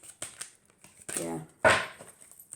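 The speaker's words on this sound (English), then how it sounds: "I'll just shuffle one." Large oracle cards being shuffled by hand, a few soft riffling and sliding bursts close by, with brief speech between them.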